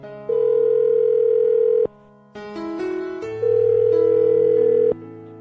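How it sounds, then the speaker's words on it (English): A telephone line plays steady electronic tones while a call is being placed on a radio show, holding one pitch before shifting through several tone changes with brief clicks, loud and clear with no talk. "I'm going to dial the phone number."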